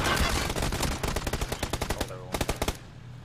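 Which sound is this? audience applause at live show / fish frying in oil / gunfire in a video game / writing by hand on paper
gunfire in a video game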